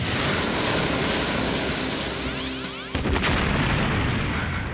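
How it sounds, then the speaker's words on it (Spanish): A huge explosion at a satellite station in an animated cartoon: a loud, sustained roaring blast with a sharp second burst about three seconds in, then continued rumbling debris. "Estoy registrando una explosión enorme en la estación de satélites."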